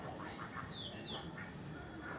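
Domestic duck quacking at a home poultry yard, a few short nasal calls at moderate distance over a steady, noisy background.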